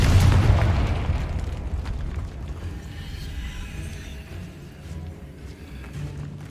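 A Confringo fire-spell blast in the video game Hogwarts Legacy lands as a single deep boom right at the start, then fades into a rolling low rumble that lingers for several seconds.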